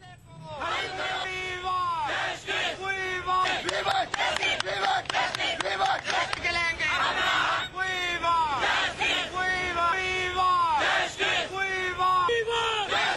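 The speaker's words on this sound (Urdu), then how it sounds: "این وائی سی رضاکار جموں کے پریس کلب میں جمع ہوئے اور حکومت کے خلاف نعرے بازی کی" Protesters gathered at the press club in Jammu shout slogans against the government, a loud crowd chanting in rhythmic, repeated bursts with a lead voice calling and many voices answering, sustained throughout.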